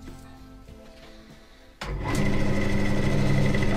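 A wood lathe spins up to roughly 600-700 RPM, shifting from a quieter run to a sudden louder, steady whirring hum with a tonal whine and some vibration.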